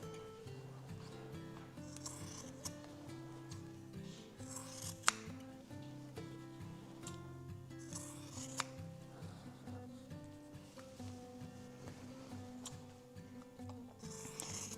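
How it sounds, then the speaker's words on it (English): Scissors snipping through quilt fabric during flag quilt cutting, a quiet steady run of soft crunchy cuts and rubbing, close up with faint background hum. "But for me, it's just faster to use the scissors."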